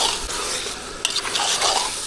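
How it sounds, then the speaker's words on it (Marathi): Marinated chicken being stirred into gravy in a kadai, a steady scraping stir with light sizzling and utensil clatter against the pan, close and continuous. "आता या ग्रेव्हीत आपण हे चिकन टाकून मॅरिनेट केलेलं."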